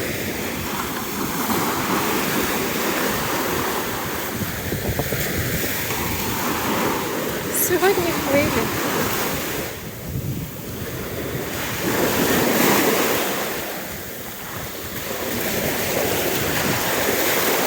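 Black Sea waves roll onto an Odesa beach in a continuous surging wash that swells and eases, with heavy wind buffeting the microphone throughout and no voices.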